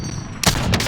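A single sharp PPSh submachine gun shot in the shooter game Call of Duty: Warzone, one loud crack over a steady background hum.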